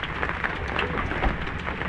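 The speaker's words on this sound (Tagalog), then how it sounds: "Ay kasa, ayan na. Ang ulan na." Rain starts to fall as a dense, even hiss of drops on surfaces, moderately loud and continuous, with faint scattered patters and no talking heard.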